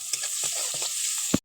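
Sliced onions and five-spice seeds sizzling in a hot pan with a steady bright hiss, while a spoon stirs in a few rhythmic scrapes and ends with a sharp knock.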